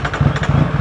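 A Triumph Street Triple 660 S motorcycle engine cranks and catches in under a second, giving a low, uneven, throbbing rumble with sharp pulses that stays close and loud throughout.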